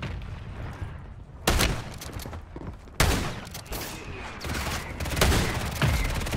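Light machine gun fire in Warzone 3, heavy repeated bursts with sharp onsets and sustained rattling between them, loud and close, with players talking over parts of it.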